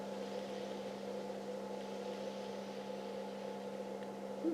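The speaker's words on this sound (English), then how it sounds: "And then our wind turbine." A small micro wind turbine turns at a far west Texas homestead, giving off a steady low mechanical hum and drone that holds at an even level throughout, with a slight rise right at the end and no talking.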